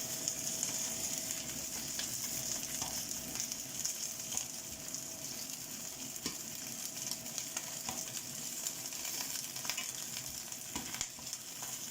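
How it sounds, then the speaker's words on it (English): Chicken pieces fry in a pan with a steady, close sizzle and crackle, occasional sharper pops and stirring clatter over the hiss, with no talking. "One thing about frying chicken"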